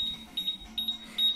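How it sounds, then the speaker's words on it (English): An Industrial Scientific Tango TX1 H2S gas detector sounding its alarm during a bump test, repeated short high electronic beeps in quick bursts over a low vibrating hum, close and loud with no talk. "You can hear the alarm, and I can feel it vibrating right now."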